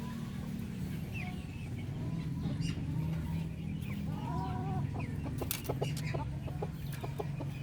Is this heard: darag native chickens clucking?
yes